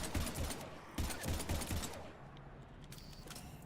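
Rapid automatic gunfire in the video game Mass Effect 3 rattles in quick bursts for about two seconds, then tails off into quieter mechanical noise, faint overall.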